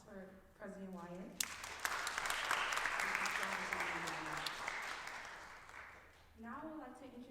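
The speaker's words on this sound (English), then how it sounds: "Can we have another round of applause for President Wyatt?" A round of audience applause for President Wyatt swells into dense clapping with a few sharp claps on top, then fades as a voice resumes, with speech before and after.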